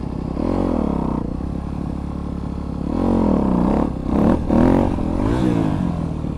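A motorcycle engine revs hard in gear as the rider lifts into a wheelie, the note surging and falling with throttle blips, loud and close with no talk.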